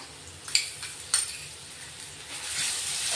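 A paste of garlic, ginger and green chili being stirred in a hot pan, a soft sizzle with two sharp spoon scrapes early on, and the frying hiss grows louder toward the end.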